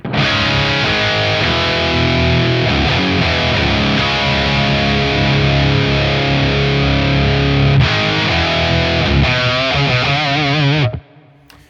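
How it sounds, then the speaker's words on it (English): Electric guitar driven hard through a Revv G20 overdrive pedal with the gain pushed near full, playing sustained, thick, saturated chords loudly and continuously for about eleven seconds before cutting off abruptly, with no talking. "That's a really nice sounding overdrive for me personally."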